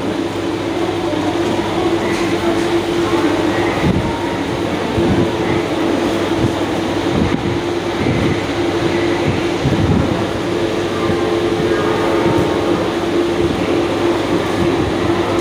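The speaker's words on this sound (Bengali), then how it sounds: "হাওড়ার প্ল্যাটফর্মে ছেড়ে দিল ঠিক কারেক্ট 11:22" A local train pulling out of a platform at Howrah station, heard from on board as a steady loud rumble with a low hum and occasional rail clicks and clunks throughout.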